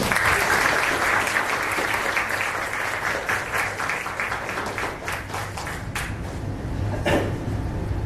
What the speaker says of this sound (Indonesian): Kita tepuk tangan, kita tepuk tangan.